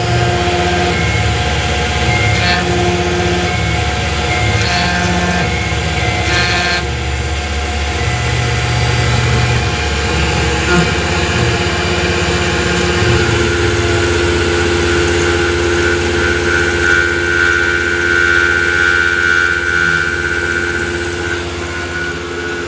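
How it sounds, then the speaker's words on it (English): A machine whirs steadily with a droning motor and high tonal whine, pitch shifting partway through as the drill bit cuts knife steel with step-downs, continuous and loud. "it's just drilling very conservatively with lots of step downs so that I don't break the drill bit"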